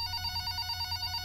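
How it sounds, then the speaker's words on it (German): A telephone rings in the indie horror game Replace the Lamp, giving a steady, faint electronic trill that pulses rapidly over a low hum. "Oh, Telefon."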